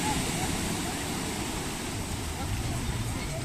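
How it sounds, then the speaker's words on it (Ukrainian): A large ocean wave crashes and washes in at Puerto de Santiago, Tenerife, a dense, continuous roar of churning water heard close and loud with no voices. "Ще одна величезна хвиля."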